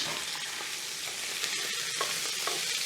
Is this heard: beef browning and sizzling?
yes